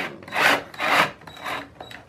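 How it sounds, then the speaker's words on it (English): Rough grinding bursts of a hand drill boring into wood, about four pulses close by, each rising and fading. "I'm just going to do this quick with a hand drill"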